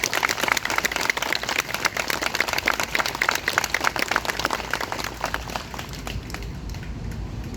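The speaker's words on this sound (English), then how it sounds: "Let's give them a round of applause." Outdoor crowd applause at a D-Day anniversary commemoration in Hazlet Township, a dense sustained patter of clapping that holds steady and thins slightly toward the end.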